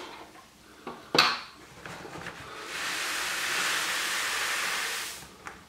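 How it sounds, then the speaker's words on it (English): Grain poured into brewing mash and stirred in a stainless steel brewing system, with a sharp metallic clank followed by a long, steady rushing hiss of falling grain and then another knock near the end. "I'm going to add it very quickly, give it a good stir to avoid the dough balls."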